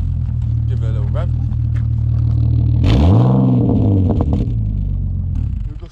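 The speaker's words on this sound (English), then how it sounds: "Start up, mate. Give it a little rev." An old BMW E36 or E46 with a new muffler idles with a deep, steady drone, then swells into one rising and falling rev before settling back, loud and close, with people talking over it.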